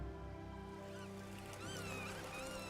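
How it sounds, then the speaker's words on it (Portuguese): Large flocks of shorebirds feeding on estuary mudflats at low tide in the Lisbon region, their calls overlapping into a dense, continuous chorus over a steady tonal background. "Grandes bandos de aves, sobretudo limícolas, alimentam-se nos lodos quando a maré vaza."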